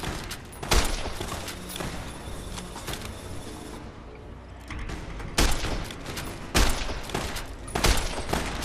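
Gunfire in Fallout: New Vegas: several loud, sharp bursts of shots ring out at irregular intervals over a constant background bed of game ambience.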